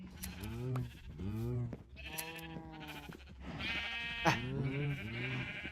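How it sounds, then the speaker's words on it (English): Sheep in Minecraft Bedrock bleat again and again in short, wavering calls, several close together with small gaps, clear and moderately loud with no talk over them. "Now let's do one more little collection up here of some sheepies."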